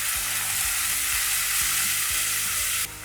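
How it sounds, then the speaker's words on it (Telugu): Ginger garlic paste, mint and coriander frying with onions in a pan, a loud continuous sizzle with faint scraping stirs now and then, easing slightly near the end. "పచ్చివాసన పోయేంత వరకు వేయించుకోవాలి"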